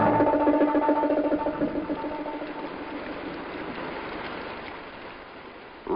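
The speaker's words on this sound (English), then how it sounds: "Rain fell." Rain falls in a steady, even hiss, with a louder rush at the start easing to a constant patter, heard alone without voices.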